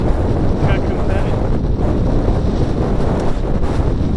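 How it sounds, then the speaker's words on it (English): Strong gale wind roars across the open coast of Iceland's Snaefellsnes Peninsula, buffeting the microphone in a loud, continuous rush with gusts throughout and no speech. "It's blowing a bloody gale."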